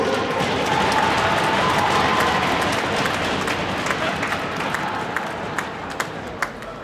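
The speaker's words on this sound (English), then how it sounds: "One more round of applause for the class of 2022" Crowd applause and cheering at a high school ice hockey senior night honoring the class of 2022, a sustained loud wash of clapping from the stands that slowly thins, with a few sharp claps standing out near the end.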